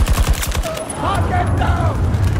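A fast burst of gunfire opens a Battlefield 2042 battle, followed by continuous rumbling combat noise as voices call out over it.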